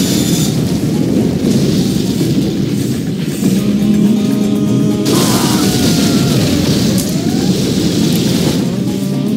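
Heavy bombing-run explosions from the Command & Conquer Generals real-time strategy game, a dense rumbling barrage of booms that sustains loud throughout, with layered blasts and whooshing debris and no talk over it.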